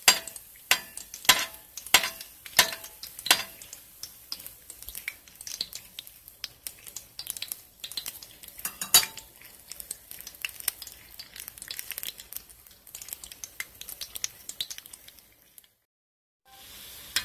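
An egg roll with sausage fries in a pan and is flipped: soft sizzling runs throughout, with a string of sharp scrapes and taps from the spatula near the start that grow sparser, then a brief silence near the end.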